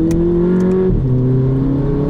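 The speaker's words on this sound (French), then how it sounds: "le moteur est dantesque. Pour une petite Polo comme ça, un gros 2 litres avec 200 chevaux, c'est très bon." A Volkswagen Polo GTI 2018 with a 2-litre 200 hp engine accelerates hard, its loud steady drone rising in pitch, dropping briefly at a gear change, then climbing again, close and with no talk.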